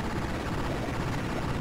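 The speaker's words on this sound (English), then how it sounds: "I guess I could be handling two helicopters" A helicopter in the game Walker gives a short, dense burst of choppy rotor noise lasting under two seconds. It is loud and close, with no voices over it.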